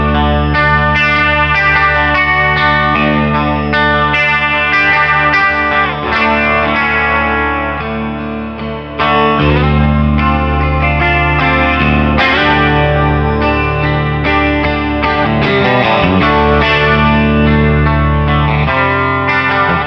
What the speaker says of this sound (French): Josh de JHS a décidé de lui faire cette pédale avec deux réglages tout simplement